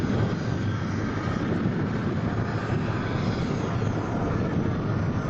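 An experimental motorbike makes a run at the 2011 Bundaberg Airshow, producing a loud, steady engine roar that holds unbroken from start to finish, with no talk over it.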